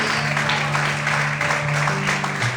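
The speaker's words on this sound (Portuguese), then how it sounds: "Você pode aplaudir e exaltar ao Senhor essa noite" A church congregation applauds during a worship service, a sustained wash of clapping filling the room, with a voice speaking over it.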